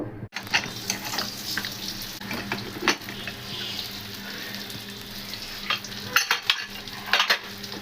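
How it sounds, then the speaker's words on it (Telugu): Fish fries in a pan with a continuous loud sizzle, punctuated by stirring and scraping of utensils against the pan and occasional clinks of cookware. "అలాగే చేపలు కూడా ఫ్రై అవుతూ ఉన్నాయి"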